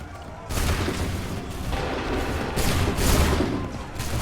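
Musket volley gunfire in Assassin's Creed III, a soldiers' battle firing line: a dense roar of overlapping shots with several louder volley bursts, loud and close, with no talk.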